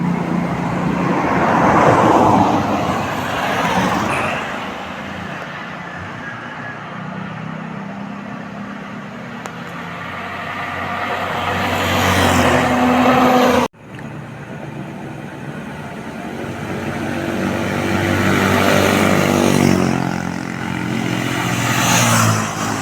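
Vehicles pass by on a road one after another, each swelling into a loud whoosh and fading, with a sharp cut in the middle.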